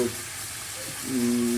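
Flat beans (sim) fry in a pan at home, a faint continuous sizzle and hiss with a low steady hum underneath.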